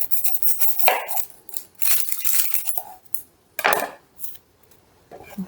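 Knife blade chopping through onions on a cutting board, with sharp clinking knocks in short irregular bursts, close and loud, no talking.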